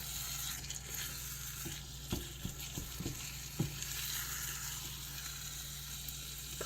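Eggs fry in a pan with a steady, close sizzle. Several brief taps and scrapes, as of a spatula flipping them, stand out in the middle of the clip.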